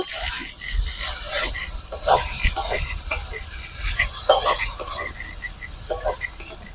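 Cubes of paneer sizzle and hiss in a pan with boiled garden spinach, a steady close frying hiss broken by repeated scrapes and stirs of a spatula.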